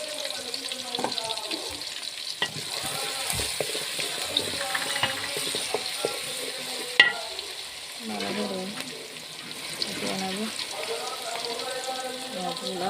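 Onions frying in hot oil with two cinnamon sticks and two cardamom pods, a continuous sizzle with occasional stirring clatter, while someone talks over it at intervals.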